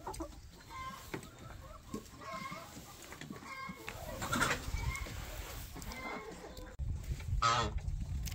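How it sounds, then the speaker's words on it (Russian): Several chickens in a yard cluck and murmur on and off at close range, with sharper squawks mixed in and quiet background noise. "Куры, курочки."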